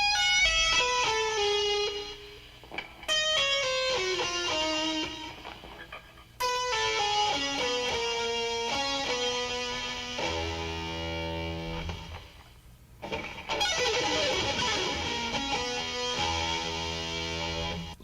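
Distorted electric guitar plays a slow classical-style metal run with string skipping, distinct sustained notes picked one after another in phrases separated by short gaps, loud and close with no voice.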